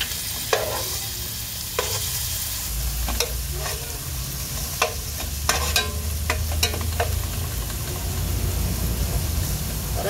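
Ground garlic fries with softened onion in a pan, a steady loud sizzle punctuated by a series of spoon scrapes and knocks while the mixture is stirred, with no one talking.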